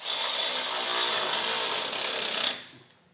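An impact tool whirs steadily with a 19 millimeter socket, snugging down the frame-rail bolts of a Curt front-mount trailer hitch on a 2015 Toyota, one continuous loud close run that stops abruptly and then trails off.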